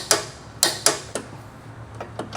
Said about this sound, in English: Using the 15mm short socket with the universal joint, long extension bar, and torque wrench, torque the upper control arm inner retaining bolt